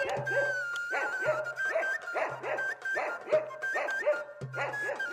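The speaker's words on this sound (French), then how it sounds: "Pendant que les chiens des bergers continuent leur concert." Shepherds' dogs bark in a rhythmic, repeated series of loud, close, overlapping woofs and yips across a desert at dusk, with no talk over them.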